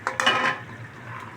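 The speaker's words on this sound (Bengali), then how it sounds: "এখন আমি মাংসটা দিয়ে দিব।" Chicken pieces dropped into hot oil in a pan for a chicken roast, a brief clatter followed by a loud hiss that fades into a softer steady sizzle, close up with no talk.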